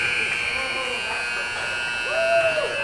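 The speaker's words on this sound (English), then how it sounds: "Buzzer sounds." An ice hockey period-end buzzer sounds at a Warriors versus Jr Mustangs game, a sustained electronic tone held under faint arena noise for the whole stretch.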